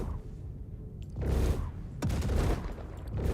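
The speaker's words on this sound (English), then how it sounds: "The turrets are hitting me, aren't they?" Star Citizen turret fire pounding a spaceship flying close to the ground, loud bursts of rapid impacts in two or three heavy volleys over a rumbling engine bed.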